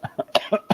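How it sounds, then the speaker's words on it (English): A short burst of several quick, close coughs in rapid succession, each sharp and breathy. "as I cough all over the place"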